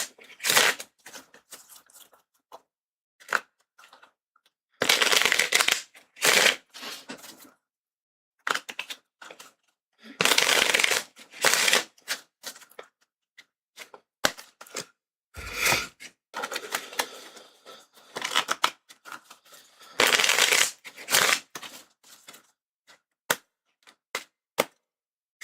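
Playing cards are shuffled at a desk during a solo tabletop RPG game, with repeated crisp riffling bursts and sharp snapping flicks coming in irregular clusters separated by short silences, close and fairly loud.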